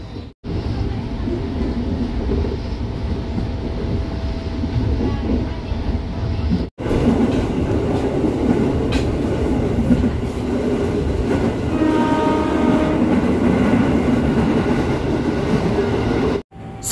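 Commuter train interior on a ride toward Kebayoran station in Jakarta, with a steady loud rumble of wheels and carriage, a brief cut near the middle and a faint squeal of wheels later on.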